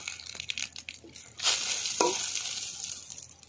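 Whole cumin seeds and two bay leaves hit hot oil in a wok and break into a bright sizzle that swells suddenly and then crackles on steadily, close and fairly loud, with no voices.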